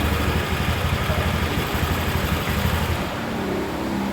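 Honda Click 150 scooter engine running steadily at idle in a workshop after an oil check, a close, continuous low throbbing hum without any speech.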